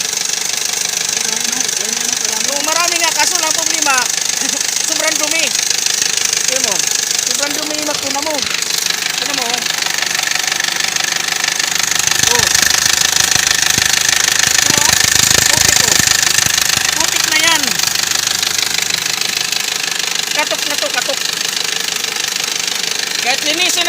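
A running Toyota Vios engine, low on oil, gives a steady, loud mechanical knocking and rattling, while people talk over it throughout.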